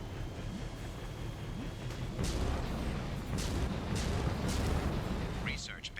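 A volcano erupting around a Cerberus research base in Mass Effect 2, steady deep rumbling with dull booms and bursts, under a voice talking.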